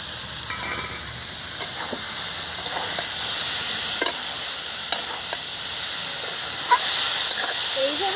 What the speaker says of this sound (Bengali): এবার কিন্তু কচুর ফুলটা আমি ভেজে নেব